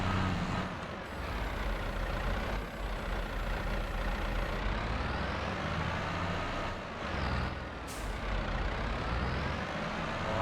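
A tractor engine runs steadily in Farming Simulator, a continuous low rumble with a brief air-brake hiss near the end and no speech.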